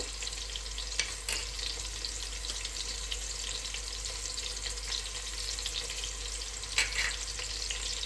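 Whole garam masala spices crackle in hot oil for Muradabadi chicken biryani, a quiet, steady sizzle over a low background hum, broken by a couple of sharp clinks of a utensil, with no talking.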